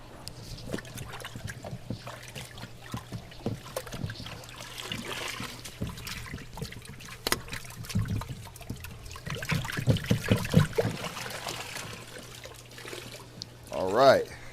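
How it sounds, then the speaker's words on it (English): A grimy aquarium filter sponge is rinsed with water over a trash can, giving irregular trickles and splashes with some rustling and handling noise close by. "Okay, so now I'm about to rinse it out in this trash can right here."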